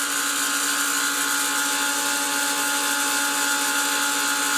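A milling machine's end mill cuts Delrin discs for click wheels, giving a steady, continuous high-pitched machining whine with dense tonal bands that holds at an even level throughout, no talk.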